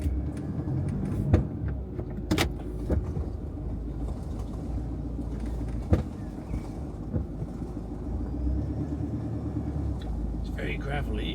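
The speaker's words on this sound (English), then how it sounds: "There's a lot of tyre noise on the gravel." Car tyres crunching over gravel while manoeuvring a towed caravan into a bay, a steady low rumble with occasional sharper crackles and knocks, with voices talking over it.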